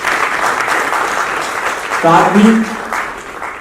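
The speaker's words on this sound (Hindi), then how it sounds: "तो सबसे पहले जोरों से तालियां मैडम के स्वागत के लिए" Loud applause welcoming a woman guest at a charity trust's national award ceremony in Jaipur, a broad wash of clapping running throughout with a voice speaking over it partway through.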